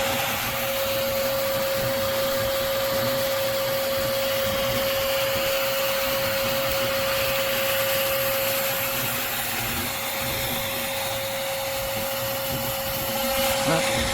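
A vacuum cleaner runs steadily and loudly, sucking hornets off a camera set up by a hornet nest inside a tree trunk, with a constant whine throughout.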